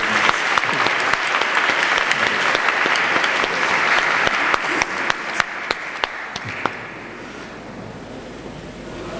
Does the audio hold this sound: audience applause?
yes